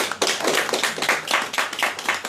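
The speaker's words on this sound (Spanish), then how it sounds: "Denle una prenda de palmas al Señor" Church congregation clapping in praise during a sermon, a close, lively burst of hand claps in an uneven rhythm with a sharp onset.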